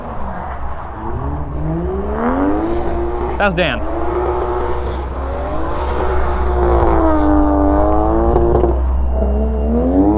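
A Nissan S14 drift car at Myrtle Beach Speedway revs hard with its engine pitch rising and falling as it drives past, loud and close throughout, with a brief voice speaking over it.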